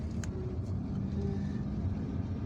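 A car driving through the streets of Algiers's El Madania neighborhood, a low steady engine and road rumble heard from inside, even and unbroken with no voices.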